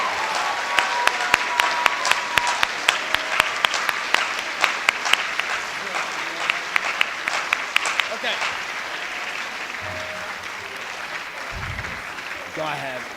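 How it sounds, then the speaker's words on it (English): A school spring orchestra concert audience applauds the instrumental music boosters, a dense wash of clapping with sharp individual claps standing out, gradually thinning as a few voices and room noise come through near the end. "Everyone, please join me in giving a huge applause to the Strongsville Instrumental Music Boosters"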